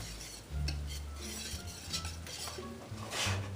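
Cheese being whisked into a thickened sauce in a pot on the stove for a from-scratch tuna noodle casserole: steady scraping and clinking of a whisk against the pot with soft stirring, fairly close and continuous, without talk.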